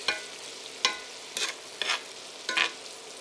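Shallots and garlic fry in butter in a pan with rosemary, soft sizzling punctuated by several sharp stirring scrapes at irregular intervals, close and fairly quiet.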